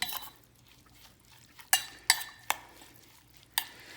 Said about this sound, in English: Some olive oil. Okay, and it's healthy too. Really good stuff. Give it a good mix.